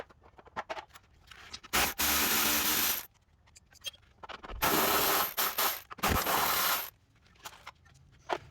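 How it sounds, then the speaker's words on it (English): A power tool, likely an impact wrench, removes 19 mm bolts during CV axle replacement on a 2003 Subaru Forester, running in two long loud bursts and several shorter ones, with quieter clinks and handling noises between. "So we're gonna take off both of those 19 millimeters and so forth."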